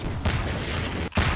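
Rocket explosions in the shooter game Half-Life 2 Deathmatch: dense, continuous game noise, with deep booming blasts near the start and again near the end, separated by a brief dip.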